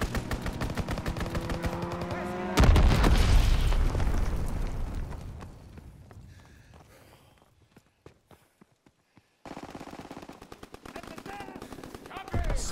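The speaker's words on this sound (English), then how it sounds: "Fighter pilot inbound, strafing the target." Rapid machine-gun fire rattles from a fighter plane's strafing run in Call of Duty WWII, loud sustained bursts with a heavy impact, then fading to scattered distant shots before firing resumes.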